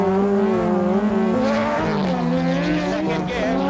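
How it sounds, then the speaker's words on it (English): A turbocharged rallycross car engine is heard at a Larne Motor Club event. It roars loudly and continuously, and its tone rises and dips as the revs climb to build boost before the car pulls away. "On a turbocharged engine, you have to get your revs right, sort of getting the boost up"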